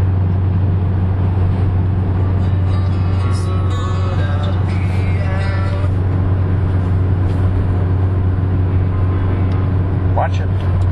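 A Honda S2000 idles in neutral with an Invidia aftermarket exhaust, producing a steady, loud, low-pitched drone that holds constant throughout, with brief muffled talk over it.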